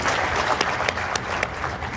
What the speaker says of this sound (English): another round of applause for the chairman